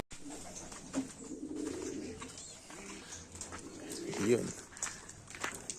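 Racing pigeons coo softly in a fancier's loft, low burbling calls rising in short bursts, with people talking nearby and a few footsteps underneath.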